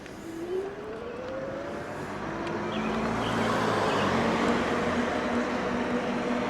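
Askmy E500 electric bike riding in pedal assist mode 1: steady road and wind noise that grows a little louder as speed builds, with a faint rising motor whine underneath.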